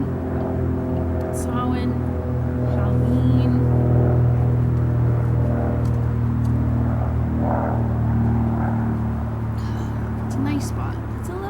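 Steady low rumble of highway traffic passing at a distance beside a cemetery, constant throughout, with a brief engine swell and faint chatter in the background.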